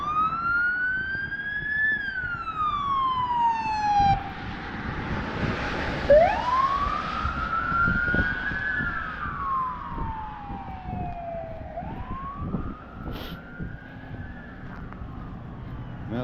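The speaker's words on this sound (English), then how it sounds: "Here comes the ambulance." An ambulance siren wails and sweeps up and down as it passes along a city street in Lewiston, Maine, loud and close at first, then fading with faint traffic behind.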